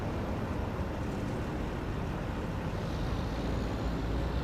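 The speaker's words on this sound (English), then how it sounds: "Now we just gotta wait for all this traffic." Steady road traffic hums in American Truck Simulator, a dense, even wash of passing cars and trucks at constant loudness without distinct pass-bys or voices.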